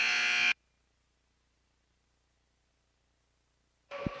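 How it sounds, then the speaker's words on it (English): A loud electronic buzzer blares for about half a second at the end of the half in a girls' basketball game, followed by silence, then a short burst of gym noise with a thump at the end. "And that's going to be the buzzer."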